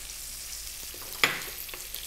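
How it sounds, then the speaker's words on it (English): Onion and carrot stir-frying over high heat for sweet and sour pork, a soft continuous sizzle broken by one sharp clank of a utensil against the pan partway through. "High heat, 3 minutes, keep it moving all the time."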